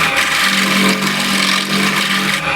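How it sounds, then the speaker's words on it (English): A round nose bowl scraper cuts into spinning wood on a lathe, making a loud, continuous rasping scrape that swells and eases as the tool moves across the curve. "with this round nose scraper, the bowl scraper, try to get nice curve here"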